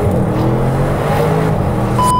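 A new 630 hp car's engine drones loudly and steadily from inside as it is driven gently, a constant low rumble with a brief rising tone at the end.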